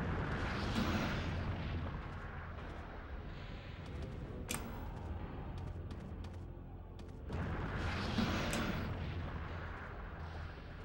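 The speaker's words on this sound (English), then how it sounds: "So let's go ahead and start using some shotgun shells." Shotgun blasts in the survival horror video game Resident Evil 3, heavy booming shots repeating over a dense, loud game soundscape with rumbling low end throughout.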